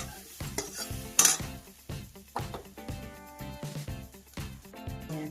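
Food is heated and stirred in a pan on the stove, with rhythmic scraping strokes and light sizzling up close, alongside steady background music.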